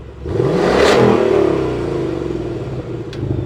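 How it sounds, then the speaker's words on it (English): A Ford Mustang GT V8 with its exhaust in quiet mode revs once, loud and close. The engine rises to a throaty peak, then settles back to a rumbling idle with a brief click near the end. "As we know, this car comes with a V8 and we get to select from 4 different exhaust modes. So this is the quiet mode,"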